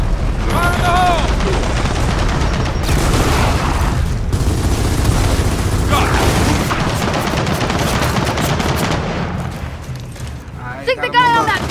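Turret gunfire and explosions in the shooter video game Gears of War 4, a loud continuous barrage of rapid shots and booms throughout, with voices speaking over the din.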